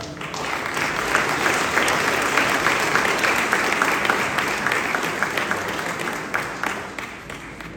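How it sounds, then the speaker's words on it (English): Audience at a family gathering about a late woman and her son-in-law's remarriage clapping steadily for several seconds, a dense, loud wash of many hands close by. "that hand clap is not enough"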